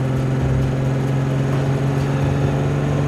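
A pre-war classic convertible car's 2.5-litre engine working hard to pull a heavy body, a steady, loud low drone held close and constant for a few seconds with no talk.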